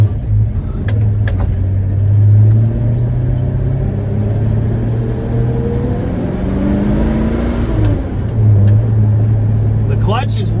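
A 1964 Dodge Dart swapped with a 5.9 Magnum V8 runs with a steady low rumble that swells briefly, heard close up while people talk over it and keys jingle.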